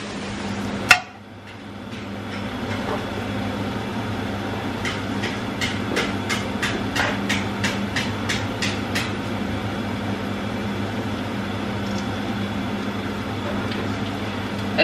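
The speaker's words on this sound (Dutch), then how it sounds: "Het geluid dat je hoort, dat is een kind dat cassettes sloopt." Sharp plastic clacks and cracks ring out as a child breaks cassette tapes, one after another over a steady low hum, with a loud snap near the start and quick rapid clatters following.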